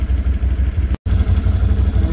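A Ford 2110 tractor engine with a brush mower attached runs steadily at close range with a loud, rhythmic chugging. The sound drops out for an instant and then resumes unchanged.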